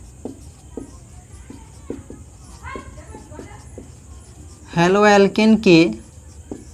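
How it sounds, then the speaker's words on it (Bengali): Chemistry equations are written on a board during an organic chemistry class, giving faint, irregular tapping strokes at a steady pace before a voice speaks briefly. "আচ্ছা এখানে আমি লিখছি"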